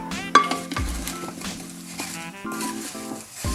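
A spoon works through sliced apples tossed with lemon juice, cinnamon and sugar in a bowl, giving close, loud scraping and clinking strokes that run continuously for a few seconds.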